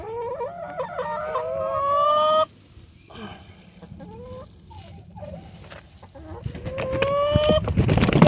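A backyard flock of chickens clucks and squawks loudly up close while being fed a home-mixed feed of goat feed, scratch grain, sunflower seeds and oats. Drawn-out calls rise and fall over rustling and rising noise, with no talk.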